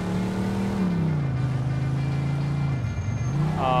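Car engine in the video game Mafia 2 droning steadily as the vehicle is driven, pitch dipping and then climbing again near the end, loud and continuous with no speech.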